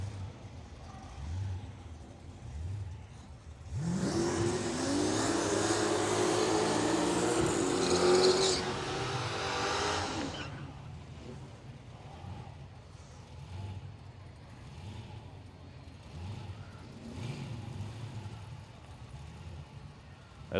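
Heads-up drag race cars launching side by side at Willowbank Raceway in Australia, a loud engine roar that builds for several seconds and then fades into the distance, with faint mechanical ticking before and after.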